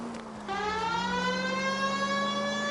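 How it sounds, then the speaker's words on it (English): A police car siren from the video game L.A. Noire winds up loud and close, rising into a sustained wail that holds steady alone for a few seconds. "I think we need a siren."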